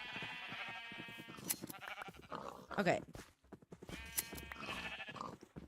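Sheep in the Minecraft video game bleat in two wavering calls, separated by a short gap, while players chat over and between them.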